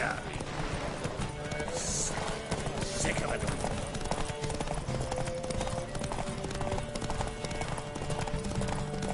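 Hoofbeats of a horse galloping in a video game race pound steadily and close under a busy, constant game soundscape, with a voice speaking briefly over the run.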